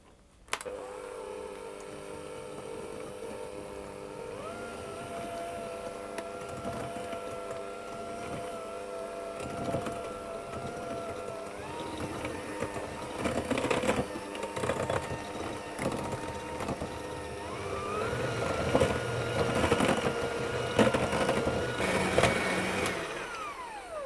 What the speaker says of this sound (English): to cream these together, I'm going to use my hand mixer